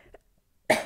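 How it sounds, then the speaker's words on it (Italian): A single sharp cough, close and abrupt, follows a moment of near silence. "Io ho un po' di tosse"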